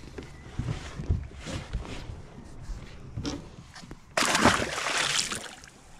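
A barramundi released into the water off a fishing boat makes a close, sudden splash and slosh, preceded by lighter water movement and soft knocks.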